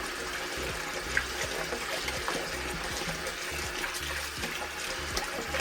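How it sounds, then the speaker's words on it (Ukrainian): Homemade butter is kneaded and rinsed by hand in a bowl of water, a continuous close sloshing and trickling with small splashes and no talk. "Рукою саме краще промивати масло. Ось яка вже вода чистесенька робиться."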